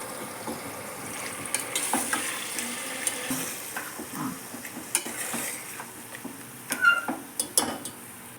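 Washed goat tripe stirs and fries in hot oil for a gongura curry, a soft steady sizzle broken by irregular scraping clinks of a spoon against the pan, close by and without talk.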